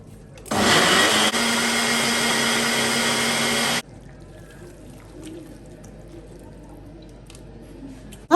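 A loud blender whirs steadily for about three seconds blending ingredients for peppered goat meat light soup, then cuts off, leaving a quiet room.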